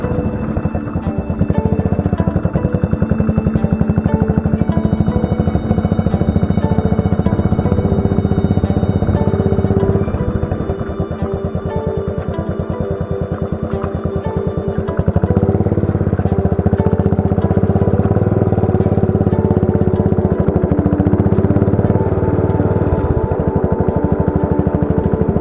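A motorcycle engine runs steadily on a ride through the Rann of Kutch, a loud continuous rumbling drone with a brief dip in level midway, no voices over it.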